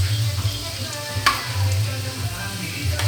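Carrots and potatoes sizzle and fry in a pan while being stirred, a steady close crackle with occasional scraping knocks of the utensil, no voices.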